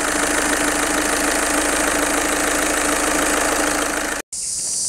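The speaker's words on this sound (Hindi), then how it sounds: "ये देखो कार एकदम हाफ सेल्फ में स्टार्ट हो गई है और एकदम प्रॉपरली बेल्ट वगैरह काम कर रहा है" A Volkswagen Polo TDI diesel engine runs smoothly at idle after a timing belt replacement, a loud steady rumble close by, cutting briefly near the end before a quieter hum resumes.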